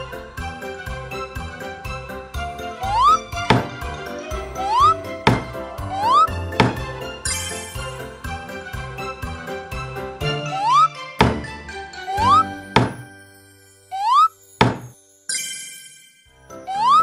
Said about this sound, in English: Nail the bed with a hammer.